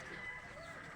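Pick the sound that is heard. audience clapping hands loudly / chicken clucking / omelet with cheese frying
chicken clucking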